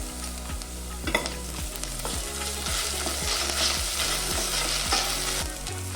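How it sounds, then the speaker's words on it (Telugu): Onion slices with ginger-garlic paste frying in a pan for coconut milk pulao, a steady close sizzle with repeated scraping stir strokes throughout and no talking. "ఉల్లిగడ్డ కొద్దిగా వేగాక ఇందులోకి 1 టీ స్పూన్ అల్లం వెల్లుల్లి పేస్ట్ వేసుకుంటున్నాను"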